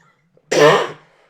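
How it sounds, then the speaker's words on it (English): A single short, sharp cough close to the microphone, with quiet before and after. "Excuse my cough"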